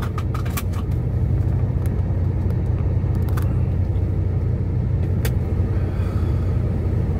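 A car starts driving off on the way to Pyeongtaek after a day at a construction site, with a steady low engine rumble and road noise inside the cabin and a few faint clicks.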